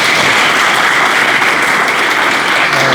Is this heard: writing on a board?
no